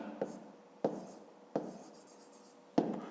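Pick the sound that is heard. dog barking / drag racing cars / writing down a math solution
writing down a math solution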